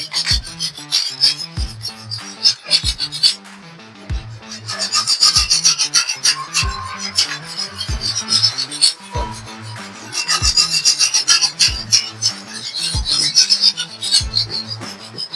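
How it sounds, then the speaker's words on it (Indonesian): A kitchen knife drawn over a water-wetted whetstone in steady, repeated strokes, each one a close, loud gritty rasp with a faint tap at the start, going on for the whole stretch with no talking. "kita balik menggunakan tangan kiri, kita asah sisi sebelahnya."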